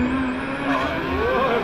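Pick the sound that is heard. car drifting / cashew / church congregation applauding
car drifting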